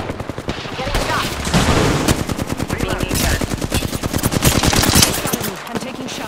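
Rapid automatic gunfire in the battle-royale game Apex Legends rattles in dense bursts of sharp, close shots, loud and continuous with brief gaps, while faint voices sound underneath.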